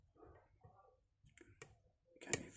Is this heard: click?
yes